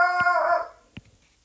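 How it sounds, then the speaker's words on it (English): A pet dog lets out a drawn-out, whining howl-bark, followed by a single short bark, close and fairly loud in a quiet room. "If you can hear my dog barking"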